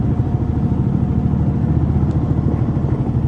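Steady, loud engine drone of a Suzuki GSX R150 motorcycle being ridden on the road, a continuous low hum with wind rush throughout and no speech.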